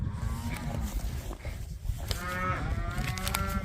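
A cow moos loudly and close by on a farm in snowy weather, with drawn-out lowing calls repeated across the clip and no talk over them.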